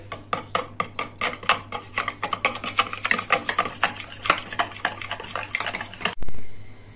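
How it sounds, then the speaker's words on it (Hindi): Half a kilo of yogurt (dahi) is whisked briskly in a bowl, with quick rhythmic scraping strokes close by, a few per second, stopping abruptly near the end. "आधा किलो दही लिए हमने, इसको हम अच्छी तरह फेंट लेंगे।"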